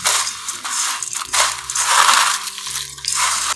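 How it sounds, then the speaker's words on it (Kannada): Bhel puri ingredients, such as puffed rice, crushed and mixed by hand, giving a steady run of dry, crackling crunches close up with no talking. "ಕ್ಲೀನಾಗಿ ಕ್ರಶ್ ಮಾಡಿ, ಹಂಗೆ ಪ್ರೆಸ್ ಮಾಡ್ಕೊಂಡು ಕ್ರಶ್ ಮಾಡಿದ್ರೆ ಕ್ಲೀನಾಗಿ ಅದು ಮಿಕ್ಸ್ ಆಗುತ್ತೆ"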